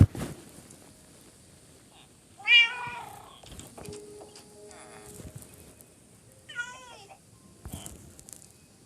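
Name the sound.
cats meowing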